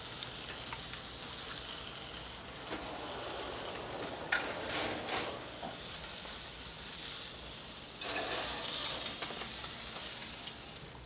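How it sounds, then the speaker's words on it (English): A thick 12-ounce filet steak sears in a hot pan with a steady, close sizzle and hiss that lasts throughout. The sizzle swells briefly in places as the meat is moved. "with a steak that thick, we're gonna sear both sides of it"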